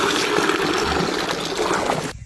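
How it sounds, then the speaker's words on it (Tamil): Cooked dal is poured into an Udupi-style cucumber sambar, a loud, close, continuous liquid pour and splash that runs steadily for about two seconds before cutting off. "பருப்பை ஊற்றிக்கிறேண்ணா."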